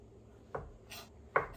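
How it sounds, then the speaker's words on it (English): A freshly sharpened knife slicing shiitake mushrooms on a board, two distinct crisp cuts about a second apart, close and fairly quiet, with a faint scrape between them. "I'm going to slice these."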